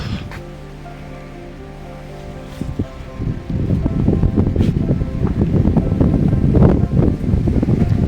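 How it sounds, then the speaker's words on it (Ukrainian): Wind gusts buffet the microphone ahead of a thunderstorm, starting low and building into a louder, rumbling roar over the second half. "який приємний вітер пішов"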